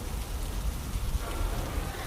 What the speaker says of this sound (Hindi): दिन सुबह तेज बारिश होने लगती है और जोर जोर से बादल गरजने लगते हैं।